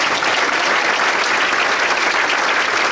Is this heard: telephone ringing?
no